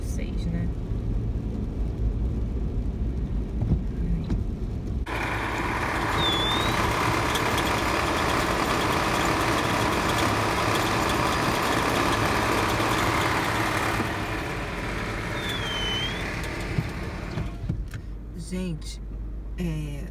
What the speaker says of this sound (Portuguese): olha os ônibus daqui.